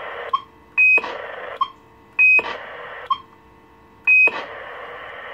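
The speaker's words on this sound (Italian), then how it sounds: "Quindi, abbiamo detto Roger Beep." Roger beep from a modified Alan 68 CB radio: three repeated electronic tone sequences, each a short blip followed by a brighter sustained beep, sounding at a steady pace over a hissing open channel.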